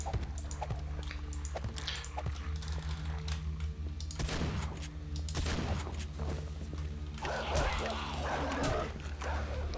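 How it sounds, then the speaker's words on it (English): Dogs bark and yip repeatedly in the 7 Days to Die video game, sharp overlapping barks over a steady low in-game hum, louder toward the end. "Man, these dogs are annoying."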